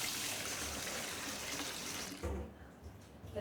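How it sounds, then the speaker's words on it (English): Tap water runs steadily over raw pork belly being rinsed in a sink, a continuous splashing rush that breaks into heavier, uneven gushes toward the end. "We wash them thoroughly under the water till the water becomes clear."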